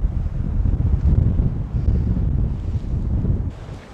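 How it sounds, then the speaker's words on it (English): Strong wind on a summit buffets the microphone in continuous low rumbling gusts, with no voices, easing slightly near the end. "the wind's really gusting up at the moment"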